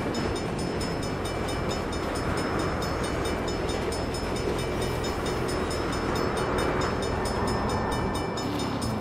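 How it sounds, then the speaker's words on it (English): A train rumbles past in Saints Row, a steady, loud, dense roar of rolling wagons that holds unbroken throughout, with a faint horn-like tone mixed in. "Had time for a train."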